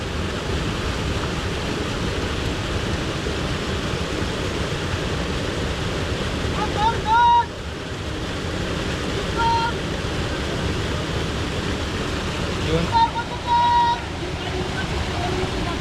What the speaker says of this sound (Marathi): पाण्याचा प्रवाह मोठा वाढला ना हां पाणी वाढलं